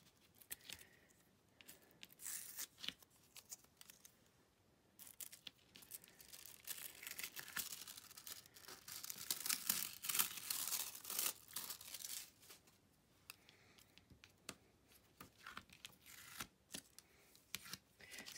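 Painter's tape peeled slowly off a cutting mat, a faint, drawn-out papery rasp and crinkle building in the middle and fading, close and quiet, with no talk.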